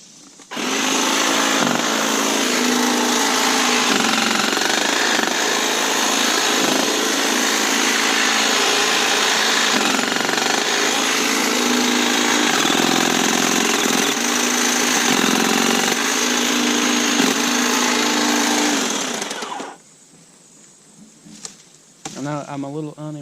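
A Kobalt 40v Max hedge trimmer buzzes loudly and steadily for about twenty seconds while struggling through a roughly quarter-inch tree limb, then stops, leaving a few faint clicks and rustles.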